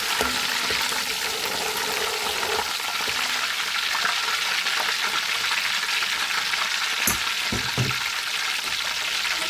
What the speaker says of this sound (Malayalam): എണ്ണ ചൂടായി കടുകിടുവാണ്. പിന്നെ പച്ചമുളക്, കറിവേപ്പില